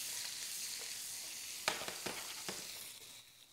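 Salmon fillets sizzle steadily in a hot frying pan, a dense continuous hiss with a few sharper spits and scrapes as they are stirred, fading slightly toward the end.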